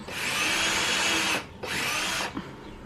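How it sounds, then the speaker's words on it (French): A power drill drives screws to fix white metal legs onto a wooden plank for a headboard, two loud sustained whirring bursts of over a second each with a short pause between, close up and without talk. "on est en train simplement de les visser dessus"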